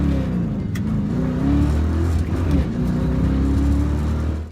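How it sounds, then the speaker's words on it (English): A V8-swapped BMW E36 M3 at a drag strip launches, its engine revving with a deep, steady low rumble that rises in pitch as it pulls away, loud and close with no talk. "I just brought the revs up and let out the clutch just fast enough that the wheels wouldn't quite spin"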